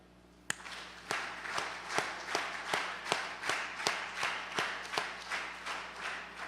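An audience in a seminar hall claps in unison, about a dozen sharp, evenly spaced claps at a steady rhythm that start with a single clap and then carry on, loud and close, with no voices.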